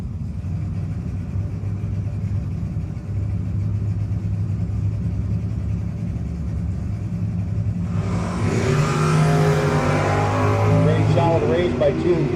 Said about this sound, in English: So the Camaro will be leaving first with Mullaney piloting it.